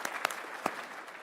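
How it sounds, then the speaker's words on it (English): Applause from a conference audience at CPAC, a faint broad patter with a few sharper claps standing out, steady through the short moment. "yes, you can clap for them"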